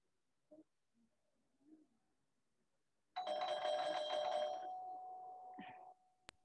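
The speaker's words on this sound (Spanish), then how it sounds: "que toca muy rápido el timbre" A house doorbell rings once with a sustained, fairly loud electronic chime lasting nearly three seconds, preceded by a few faint scattered sounds and followed by a short tone.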